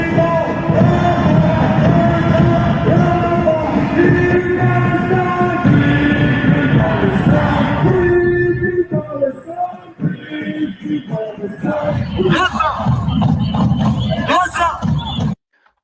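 Large rally crowd, a loud, dense roar of voices with chanting tones and cheering, continuous and close, thinning into scattered shouts before cutting off.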